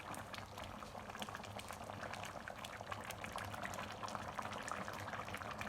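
Rajasthani mutton curry simmers in a pot, a soft, steady bubbling and gurgling that stays faint and continuous without any talk.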